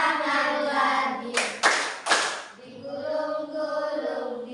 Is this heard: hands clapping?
yes